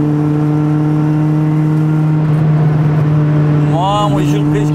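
A Honda Civic EJ9's engine and intake drone steadily while driving, heard from inside the car: a loud, constant low hum, a brief swell in the middle and a short rise in pitch near the end, with a voice briefly audible.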